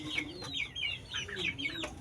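A Shamo chicken recovering from fowl pox clucks softly in a series of short, close, quiet calls, with no talking.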